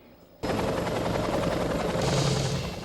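Helicopter in the 1990 film Pump Up The Volume, its loud rapid rotor chop starting abruptly and holding steady and close for a few seconds.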